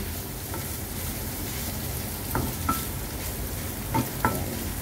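White bitter melon with egg stir-frying in a pan, giving a continuous moderate sizzle broken by several short scraping stirs of a utensil, with no talking.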